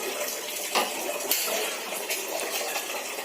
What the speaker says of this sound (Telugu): నీళ్ళు పోసేసి పెట్టేస్తున్నామా?